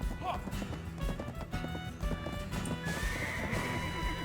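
A horse gallops in the online game Black Desert Online, its rapid hoofbeats clip-clopping in a steady rhythm with a whinny near the start, alongside other game sounds, fairly quiet overall.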